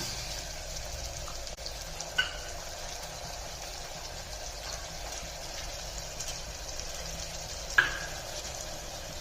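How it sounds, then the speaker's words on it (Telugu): Mint leaves frying in a pan with tomatoes for a Telangana mutton curry make a faint, steady sizzling hiss, broken by a couple of small sharp clicks like a spoon tapping the pan; no voices. "ఇవి దూరగా వేయించుకోవాలి కొద్దిగా పుదీనాకు వేస్తున్నా"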